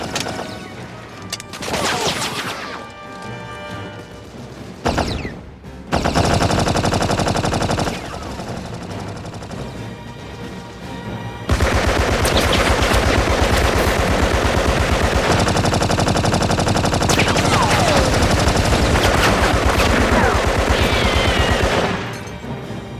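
Gunfire rattles through a WWI trench battle scene as sustained machine-gun bursts and volleys of shots, loud and dense, separated by brief quieter gaps and crashes.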